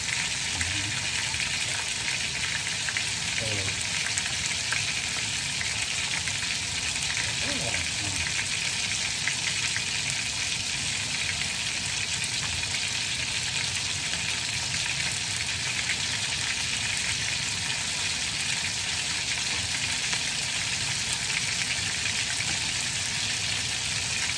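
Food fries in a pan at home, a loud continuous sizzle that runs unbroken from start to finish, with occasional faint voice sounds beneath it.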